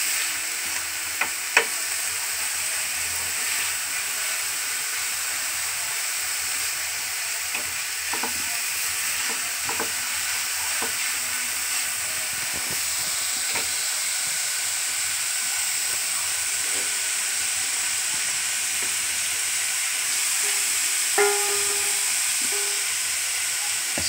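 Vegetables and beans fry in a pan, a steady, fairly loud sizzle and hiss that runs throughout with occasional clicks and stirring scrapes.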